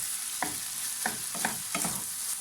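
Vegetables frying in a pan are stirred with several distinct scraping strokes at irregular intervals over a continuous close sizzle, with no voices.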